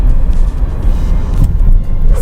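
Road noise inside a Citroen C3 1.5 8v driving over rough asphalt, a loud, close, continuous low rumble of tires and body with uneven bumps and thumps.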